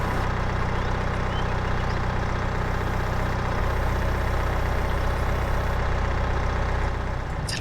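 A tractor engine in Farming Simulator 22 drones steadily at close range, a loud, continuous low rumble with no voices.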